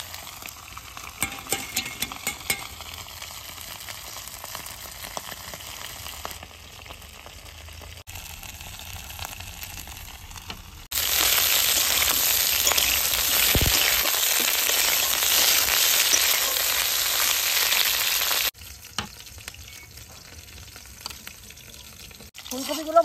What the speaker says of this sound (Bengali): ফুলকপি ভাজা হতে হতে আমি ডিমগুলো তুলে নেব